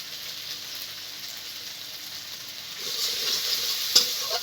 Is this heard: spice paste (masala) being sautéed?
yes